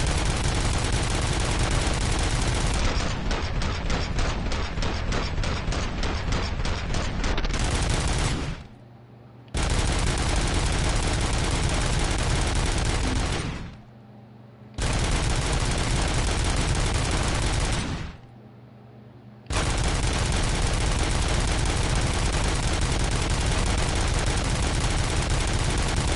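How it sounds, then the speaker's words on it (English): Sustained heavy gunfire from the RoboCop: Rogue City video game, with dense rapid automatic bursts that run almost without a break for long stretches, loud and close, separated by a few brief pauses. "because it's like nothing but gunshots."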